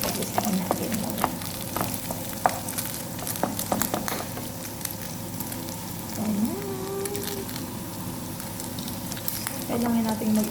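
Vegetables sautéing with leftover chicken in a pan, a soft steady sizzle with scattered crackles and light stirring clicks, faint background voice-like tones now and then.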